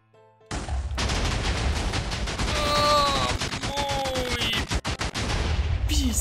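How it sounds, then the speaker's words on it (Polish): Fireworks going off in a Minecraft game, a dense run of rapid crackling pops and bursts with whistling rising tones, loud and continuous for several seconds before stopping abruptly. "Dobra, to fajerwerki na koniec w takim razie."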